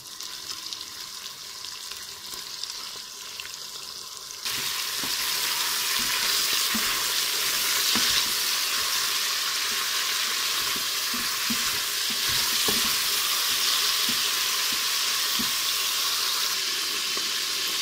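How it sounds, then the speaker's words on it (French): Pieces of beef brown in a Cookeo multicooker pot, a loud steady sizzle of frying that jumps up partway through, with scattered scraping taps of stirring and no speech. "on va venir y faire dorer les morceaux de viande. Donc on mélange régulièrement pour que les morceaux soient bien dorés sur toute leur surface"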